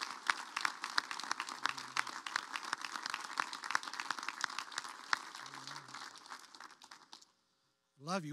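A congregation at a memorial service applauds in dense, sustained clapping that fills the room for about seven seconds before fading into silence, then a voice begins speaking.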